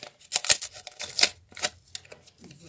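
A paper surprise packet is opened: paper crinkles and tears in a few short, crisp bursts close by, with brief pauses between the rustles.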